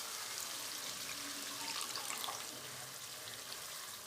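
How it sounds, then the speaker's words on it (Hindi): Two cups of water pour steadily into an egg korma curry, giving a continuous soft splashing and trickling wash over a faint kitchen background. "अब इसमें हम 2 कप पानी डालेंगे।"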